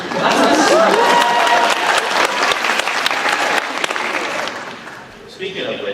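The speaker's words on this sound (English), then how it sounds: "whenever I walk into a room, I do get an applause" A crowd at an Otakon 2024 Final Fantasy XVI convention panel bursts into loud, sustained applause with some chatter mixed in. The clapping slowly fades, and voices begin talking just as it ends.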